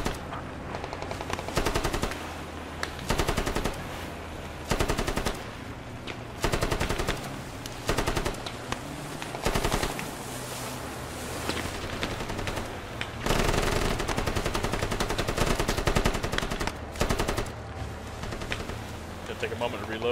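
A machine gun in Squad fires repeated short controlled bursts, loud and close, each burst a tight cluster of rapid shots separated by brief pauses, with a voice talking between and under the firing.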